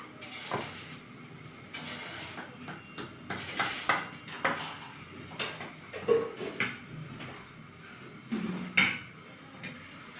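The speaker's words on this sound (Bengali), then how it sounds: "আর এতে 1 চামচের মতো অ্যারারুট দিয়ে ওই ডিমের সাথে এটা মিশিয়ে নিচ্ছি ভালো করে" Egg is mixed with arrowroot in a bowl by hand, heard as a series of sharp utensil clinks and taps against the bowl at irregular intervals, close and moderately loud, with quiet stretches between the strikes.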